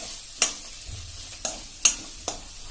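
Cashews and raisins roasting in oil in a pan give a soft steady sizzle, broken by four sharp scrapes and clinks of a spoon stirring against the metal, with no voices.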